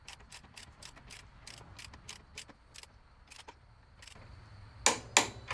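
A torque wrench ratchets in quick bursts of close, crisp clicks while tightening the chain adjuster on a 1980 Honda CM400T motorcycle, ending with two louder sharp snaps.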